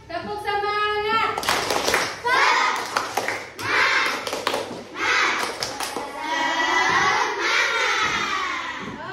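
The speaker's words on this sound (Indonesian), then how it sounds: "Tepuk semangat." Children in a classroom clap a rhythmic cheer, bursts of group claps in patterned beats alternating with a voice and children's voices, close and fairly loud.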